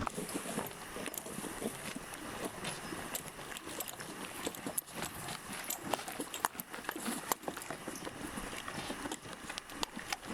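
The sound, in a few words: horses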